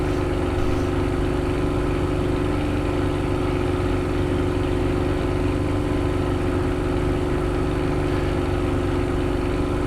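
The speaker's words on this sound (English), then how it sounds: "You need to be respectful of the engine in this airplane at all times." A simulated airplane engine runs steadily in the NeoFly flight simulator game, a constant loud droning hum with no talk over it.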